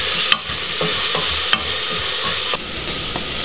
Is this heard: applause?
no